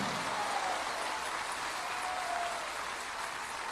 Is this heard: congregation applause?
yes